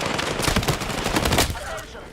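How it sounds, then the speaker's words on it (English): Dense automatic weapon fire in the video game Halo, loud overlapping bursts of shots in a continuous stream that thins out near the end. "he was shooting at my teammate"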